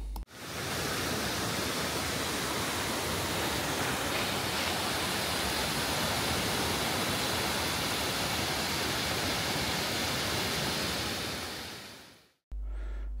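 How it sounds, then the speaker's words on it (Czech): Outdoor showers running constantly just behind a swimming pool in Varna, a steady loud rush of falling water that holds for the whole stretch and cuts off abruptly at the end. "tady hned za bazénem jsou takovýhle sprchy, které tečou ve dne v noci"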